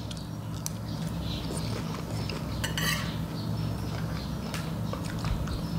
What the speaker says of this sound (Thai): ผัดปลาหมึกน้ำพริกเผาเลี้ยงเขาเจ้า